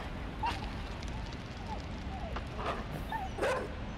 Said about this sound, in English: that dog can swim!